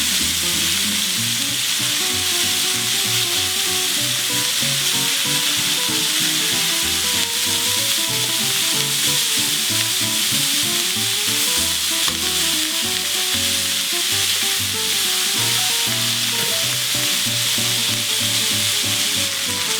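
Chopped onion pieces sizzle and fry steadily in a hot pan, a loud continuous crackling hiss with soft stirring scrapes and no talking.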